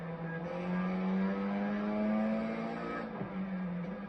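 An F4 race car downshifts on approach to a turn at Homestead, its close, steady engine note holding high and then stepping down with a brief dip near the end, with no talk.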